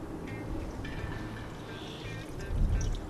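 Coolant pours quietly in a thin stream into a radiator hose of a BMW E30, with a brief louder gurgle near the end.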